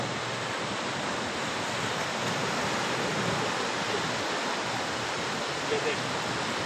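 Sea waves rolling onto a litter-strewn beach in Karachi, a steady broadband wash of surf with no distinct breaks, close and continuous, mixed with wind rumble across the microphone.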